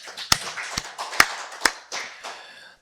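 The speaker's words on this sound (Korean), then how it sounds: "박수를 하나님께 영광을 드리겠습니다" Applause from a church congregation at a Sunday worship service: a handful of sharp, separate claps spaced out over a few seconds, close and fairly loud, with no steady ovation.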